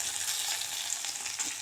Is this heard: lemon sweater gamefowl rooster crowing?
no